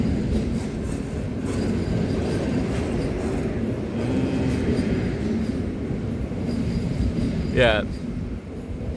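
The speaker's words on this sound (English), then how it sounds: "Another train." A train passes by with a loud, continuous rumble and rattling wheels, then a brief high metallic squeal near the end, while a person speaks briefly over it.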